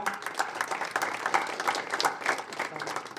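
A crowd at a family honouring ceremony claps steadily and fairly close, a dense patter of hands with a faint murmur of voices underneath.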